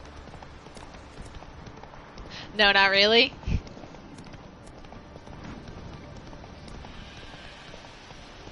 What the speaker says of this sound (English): I am so trash at horse riding in this game.